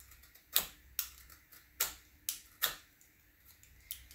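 A knife trims basket reed in a series of sharp, dry clicks and snaps, about seven cuts at an uneven rhythm, heard close with quiet gaps between them.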